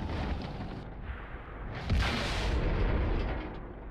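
A tank cannon shot from the T30 in World of Tanks, a sharp booming blast erupting loud and close midway through, its rumble decaying over steady battle ambience.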